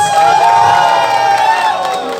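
A large outdoor crowd cheers and whoops at the start of a marathon, a loud sustained roar of many voices with no break in it.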